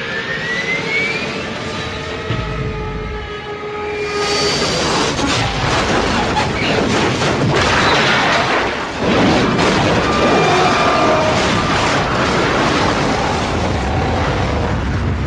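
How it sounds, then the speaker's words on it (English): A cartoon plane crashes into a house: a loud roaring jet engine with descending whines builds up, then a sustained crashing rumble and noisy debris that stays heavy to the end. "A plane just crashed into the house."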